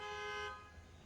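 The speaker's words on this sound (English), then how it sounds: "Do you hear the big old bus out there honking its horn?" A bus sounds its horn outside in one sustained, fairly faint honk that cuts off after about half a second.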